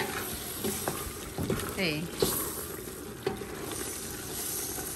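Lemongrass pork ribs stew stirred in a hot pan over high heat, with a steady sizzle and a few scraping spoon strokes, a short spoken word heard over the cooking.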